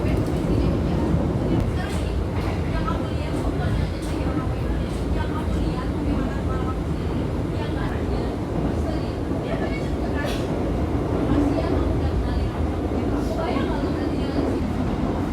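Steady rumble and rattle inside an Argo Cheribon executive-class train running on rails at speed, continuous low roar with faint clicks from the track, no breaks throughout.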